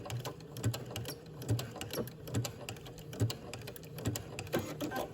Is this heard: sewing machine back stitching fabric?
yes